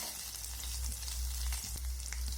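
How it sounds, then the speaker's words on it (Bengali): Ginger and garlic sizzling in hot oil while being stirred in a pan, a steady crackling fry with soft scraping of the spoon, close and continuous with a low hum underneath. "এখন আমি নেড়ে চেড়ে আদা রসুনটাকে ভেজে নেব"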